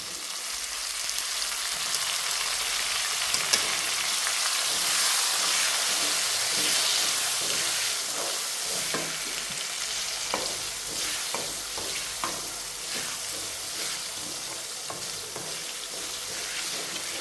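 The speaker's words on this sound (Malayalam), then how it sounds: "അരിഞ്ഞ് വെച്ച് തക്കാളി ഇടാം." Chopped tomato frying with soya chunks in a pan gives a steady, dense sizzle with crackles throughout, fairly close, no voices.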